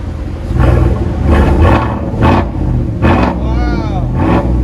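GMC Sierra 5.3L V8 pickup with straight-pipe exhaust revving hard in repeated bursts, a deep loud roar rising and falling close by, with people talking over it.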